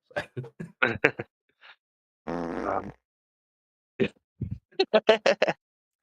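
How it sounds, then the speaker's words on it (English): A played fart sound effect: one buzzy, rumbling blat lasting about half a second, set among short scattered vocal grunts and murmurs before and after. "I've updated the fart noise as well that you heard earlier"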